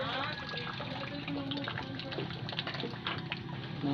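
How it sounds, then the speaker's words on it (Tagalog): Seawater at high tide rushes and washes steadily up close, a constant swishing surge with faint voices mixed in beneath it. "paggising mo, andito na ang dagat. Ang laki ang dagat."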